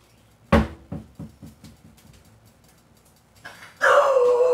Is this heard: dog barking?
yes